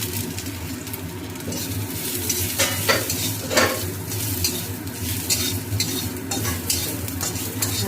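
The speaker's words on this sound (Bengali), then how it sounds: "এখন আমি দিয়ে দেবো কালো জিরে, তারপরে দিয়ে দেবো আদা কুচনো" Nigella seeds and chopped ginger hit hot oil in a pan, giving a loud, continuous close sizzle with scraping spoon stirs and a few sharp bursts of crackling midway.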